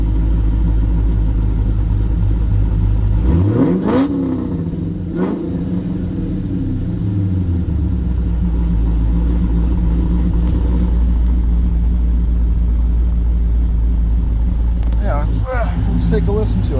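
Cummins diesel engine with a performance cam idling with a rocking lope, revving up briefly and dropping back to a loud, close, rumbling idle.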